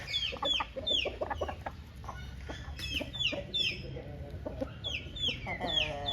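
Hens at a poultry sale clucking and squawking repeatedly, close and fairly clear, with a voice speaking intermittently underneath.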